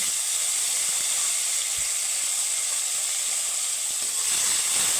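Tomato frying in hot oil with panch phoron, the Bengali five-spice mix, gives a loud, even, continuous sizzle and hiss, close up, with a few faint low bumps and no talking.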